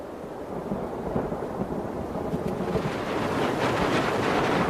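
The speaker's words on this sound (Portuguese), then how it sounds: "Outros relâmpagos. Mas desta vez eles trazem a chuva há tanto esperada." Thunderstorm in the Brazilian wild, with a continuous roar of heavy rain and rumbling thunder building steadily louder and fuller.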